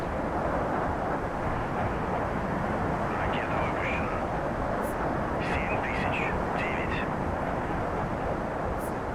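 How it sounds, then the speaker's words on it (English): Aircraft take off in the naval warfare game Sea Power, a loud, continuous broadband jet roar that holds steady throughout, with faint higher tones flickering above it. "There's all of the aircraft taking off."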